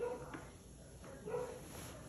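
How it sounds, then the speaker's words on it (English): A dog barks a couple of times somewhere in the room while someone installs a PS5 SSD, short woofs with quiet background noise between them. "sorry for the dog barking"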